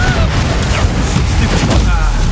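Incendio and Confringo spells in Hogwarts Legacy going off in a rapid series of loud crackling blasts and booms, close, with voices talking over them.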